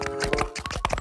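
Horse hooves clip-clop rapidly in a video game, an even run of close, clear taps over a steady tonal music bed with no talk.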